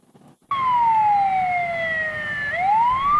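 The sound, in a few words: fire engine siren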